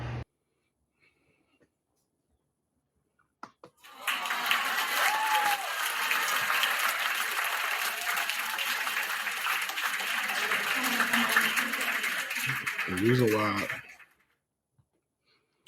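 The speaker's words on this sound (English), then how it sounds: "The reason why I'm applauding" A man claps steadily, near and continuous, for about ten seconds after a quiet opening, with faint voice sounds mixed in.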